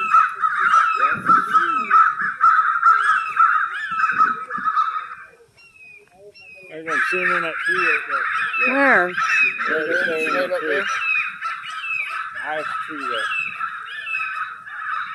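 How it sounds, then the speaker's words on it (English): Several crows caw repeatedly in a swamp setting, loud, harsh and close, in bursts that overlap one another, with a brief lull midway. People talk in between the calls. "The crows are coming in."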